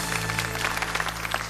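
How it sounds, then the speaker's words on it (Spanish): An audience applauds a contestant at a televised home cooking show, a steady burst of clapping heard alone over a low hum. "aplausos para ella"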